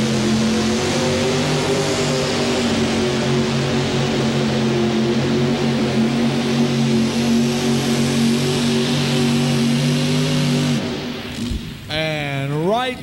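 A mini rod pulling tractor engine revs hard at a 1989 pulling event in Louisville, Kentucky, a loud sustained droning roar that suddenly cuts off and then climbs again in rising, wavering revs.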